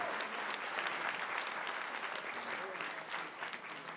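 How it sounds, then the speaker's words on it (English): Steady, dense applause from a large gala audience at a Habitat for Humanity fundraising ball in Los Angeles, a continuous crowd of clapping hands holding at an even level throughout. "Give that family a big round of applause."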